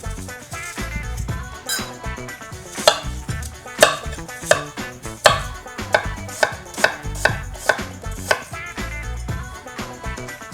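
A knife chops a raw apple on a cutting board in a kitchen, giving irregular sharp knocks that speed into a quick, close, loud run of cuts.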